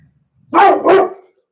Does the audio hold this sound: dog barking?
yes